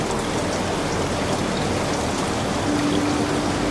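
Rain pours steadily outside along a Canadian Rockies train route, a constant full hiss with a trickling, streaming quality and a faint low hum joining near the end, with no one speaking.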